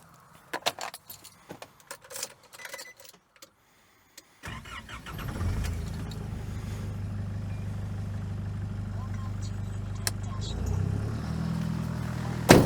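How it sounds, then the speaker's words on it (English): A car's engine starts and then idles steadily during an off-road self-recovery with the handbrake on. Keys jangle and there are handling clicks before the start. A low, even engine drone fills the rest. "and then I'm going to slowly start winching up."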